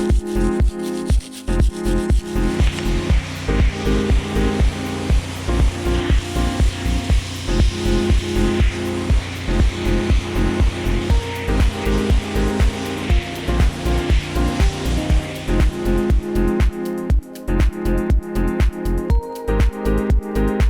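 Compressed air blasts continuously and loudly against a Miata transmission case, a harsh close hiss with rapid fluttering pulses that run the whole time without speech.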